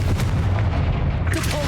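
A Confringo spell blast in Hogwarts Legacy gives a short, loud explosive burst with a booming low rumble that lingers briefly and then fades.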